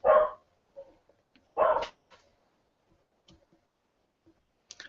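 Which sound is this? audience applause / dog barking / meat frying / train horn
dog barking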